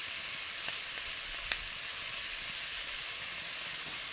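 Cumin seeds and whole spices sizzle in hot oil as a steady, even hiss with a couple of faint pops, continuous and moderately quiet.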